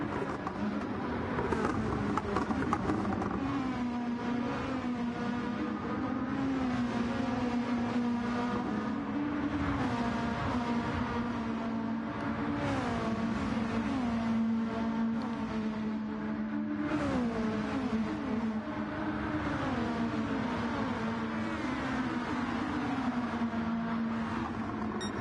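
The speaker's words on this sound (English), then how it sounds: "Cars humming along beautifully." Several GT1 race cars lapping a mountain circuit in Australia in a racing video game, with continuous loud engine drones that rise and fall in pitch through gear changes and corners, steady throughout with no pauses.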